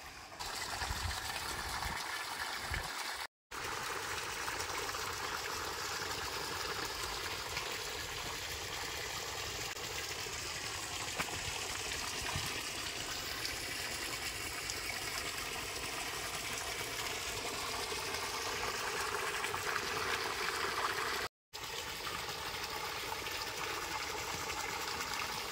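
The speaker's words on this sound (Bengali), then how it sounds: "তো পুকুরটাতে জল আগে ভরে নিই 3 ফুট মতো" Water pours steadily into a village fish pond being filled to about three feet deep, a continuous gushing, trickling flow close by, broken by two brief dropouts, with no one talking.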